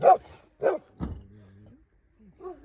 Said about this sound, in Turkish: İleride bir cam var da ona havladılar.